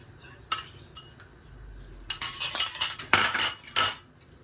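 A metal spoon stirring yogurt in a bowl to thicken tripe soup, with a single clink first and then a quick run of sharp scraping and clinking strokes, close and fairly loud.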